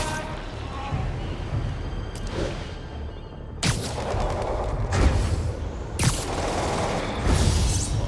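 Gunfire on a rooftop outpost in Marvel's Spider-Man, with loud, sharp blasts and bursts landing at irregular intervals over a rumbling background, close and forceful.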